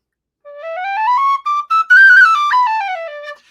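A tin whistle used for Irish music climbs up the scale, clear and close, its pure tones stepping higher with a few short breaks and then falling back, played alone.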